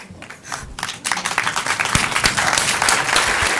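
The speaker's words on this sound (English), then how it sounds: "I wonder if you'd all stand up and clap" Audience rising to its feet and applauding: a few scattered claps swell within a second into dense, loud, sustained applause that holds steady to the end.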